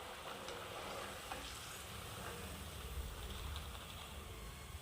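Old rice frying in hot oil, a soft continuous sizzle with light stirring scrapes and a low rumble underneath, faint and steady throughout without speech.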